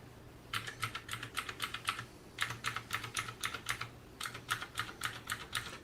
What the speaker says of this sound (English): Sounds like my keyboard.